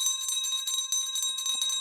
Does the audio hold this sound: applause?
no